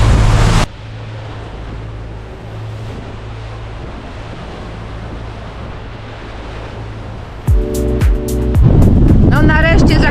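Large ocean waves around a sailing boat at anchor off Black Point in the Exumas, Bahamas: constant roaring wind and surf washing over the microphone, with a sudden splash and clatter near the end.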